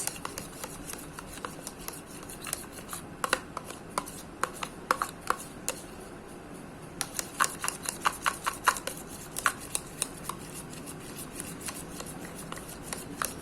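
Small container of homemade eye serum being stirred into a white cream, giving soft repeated scraping and clicking strokes in an uneven rhythm, close and fairly quiet, with no talking.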